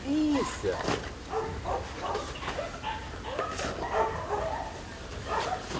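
Dogs bark and yip amid a noisy sterilization center holding over two hundred evacuated dogs, with several animals calling over one another and a person talking nearby.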